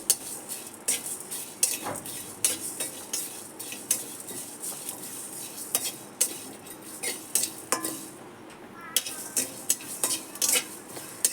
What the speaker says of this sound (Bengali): শুকনো খোলায় নেড়ে চেড়ে ভেজে নেব।